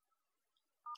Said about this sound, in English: So for that we have to dial